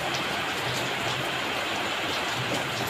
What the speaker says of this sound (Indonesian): Hujan lagi lo